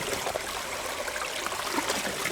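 A mountain stream at a backpacking campsite water collection spot in Great Smoky Mountains National Park, flowing like a faucet: a continuous, fairly quiet rushing trickle of water, close and unbroken, with no one speaking.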